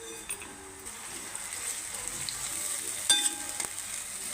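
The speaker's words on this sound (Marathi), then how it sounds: "हे वाटण घालायचं आहे आणि व्यवस्थित भाजून घ्यायचं" Ground masala paste fries with onion in a pan for chickpea curry, making a steady, moderate sizzle with a couple of light metallic clinks from the spoon.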